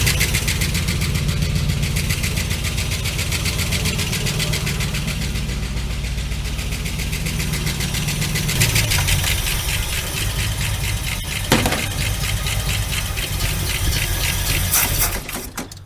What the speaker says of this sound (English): Don't sit there and idle.